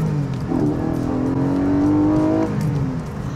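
A Porsche 718 Boxster GTS 4.0 flat-six revs hard while accelerating along an open road, its engine note rising steadily toward high RPM, loud and continuous, then easing off near the end.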